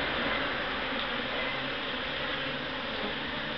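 Honeybees swarming around a large hive with brood and honey in an abandoned house, a dense continuous buzzing drone, close and steady, with no talk.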